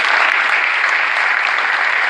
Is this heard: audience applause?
yes